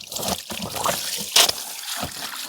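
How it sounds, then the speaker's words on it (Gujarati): Uncooked rice is rinsed in water at a farm, with close, uneven sloshing, dripping and splashing in several bursts and a sharper splash midway. "ચોખા ધોઈ નાખીએ"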